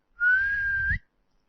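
A single sustained whistle from a woman at home, a clear, steady tone lasting just under a second, close and alone with no talk.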